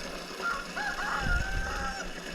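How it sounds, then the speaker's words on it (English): A rooster in a rooster cage with several others crows one long drawn-out call, moderately close, over quiet background noise. "alpha rooster crows."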